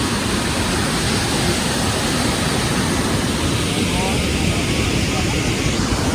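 A waterfall in Jharkhand pours down from above, a loud, steady, broadband roar of crashing water that fills the whole scene without pause.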